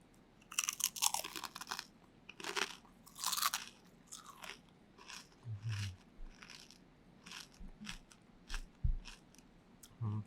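Crispy fried chicken skin is bitten and chewed close to the mic, producing loud crackly crunches in irregular bursts that slowly give way to softer chewing, with no talking.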